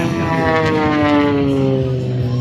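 An aerobatic propeller airplane performs at the Salinas International Airshow, its loud engine drone sliding downward in pitch as it passes close by, steady and unbroken with no voices over it.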